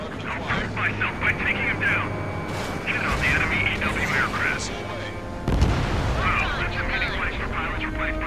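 A missile launch in the Ace Combat 7 jet combat game, a rushing, booming roar that swells and fades under steady engine drone, with a second heavy surge near the end while game voices talk over it.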